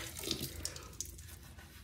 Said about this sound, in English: I'm gonna put a little bit of water in this.